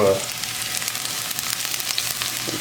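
Shallot hits a hot pan and sizzles loudly with a dense, steady frying hiss that continues throughout, with a small clink at the end.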